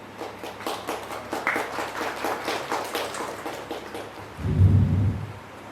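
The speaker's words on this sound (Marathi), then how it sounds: "खरंच जरा टाळ्या जोरदार झाल्या पाहिजे, जोरदार" Audience applause at the launch event of the Marathi TV serial Mee Sansar Majha Rekhite, a steady patter of many hands clapping throughout, swelling into a louder burst near the end.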